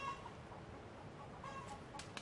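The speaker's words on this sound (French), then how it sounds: "les poules là." Chickens cluck softly and intermittently in the distance on a remote desert island, faint against a steady outdoor background hiss.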